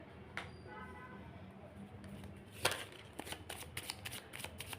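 Playing cards are shuffled close by, with a quick burst of riffling flutters and a few soft slaps and taps under a quiet background.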